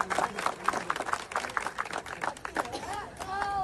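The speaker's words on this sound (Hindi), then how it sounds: "एक बार जोरदार तालियों से स्वागत" A crowd welcomes a legislator with clapping in rapid, dense bursts, fading toward the end as a voice begins speaking over it.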